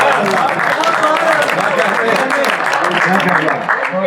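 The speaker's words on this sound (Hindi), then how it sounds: "भाई आरफी साहब के अंदाज पे भी तालियां होनी चाहिए।" Audience applause at an Urdu poetry mushaira, a dense steady wash of clapping filling the whole stretch, loud and close, with voices mixed in.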